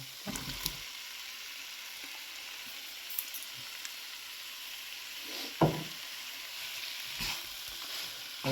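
Boiled jackfruit for a curry goes into a hot pan, giving a low steady sizzle with a few scattered knocks and one louder thump and scrape as the pieces are stirred in.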